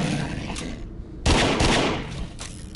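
Gunfire in the VR shooter game The Walker on PSVR, a rapid fusillade of loud close shots in bursts, a quieter stretch and then a sharp louder volley that tails off, with no talking.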